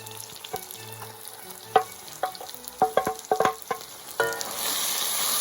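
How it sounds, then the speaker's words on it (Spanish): Sautéed onion being stirred together with shredded cod in a pan, a bright sizzle punctuated by a run of sharp clicks and scrapes from the utensil, then a denser frying hiss at the end. "ahora es cuando empezamos a mezclar con el bacalao desmigado"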